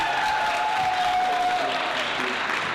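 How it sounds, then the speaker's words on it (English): A steady round of audience applause follows a history presentation, with dense, even clapping from a sizable group sustained across the whole stretch and a faint whistle-like tone running beneath it. "Everyone give these guys a round of applause."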